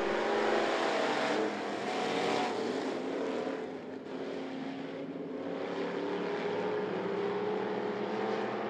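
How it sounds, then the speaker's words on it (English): Race cars at I-75 Raceway during a Thunder event pour out a dense, continuous engine roar as the field takes the green flag, the pack loud and steady with slight swells throughout. "Walker leading the field into four, leading the field out of four to Green Flag Racing."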